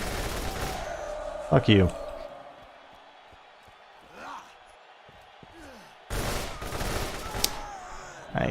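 Gunfire in Borderlands as enemies shoot at the player: a sharp, loud burst early on, a quiet lull, then a sustained rattling volley, with someone speaking briefly.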